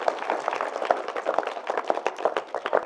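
A small audience at a Buddhist vihara community event in Bhandara claps with scattered, uneven handclaps at moderate volume, continuing steadily for a few seconds with no talk over it.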